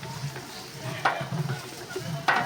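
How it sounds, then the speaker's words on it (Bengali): Meat stirred vigorously in a brass cooking pot at a village wedding kitchen, with a close, steady sizzle broken by two sharp scraping clanks of the stirring tool against the metal. "লাড় লাড় ভাই, জোরে জোরে লাড়।"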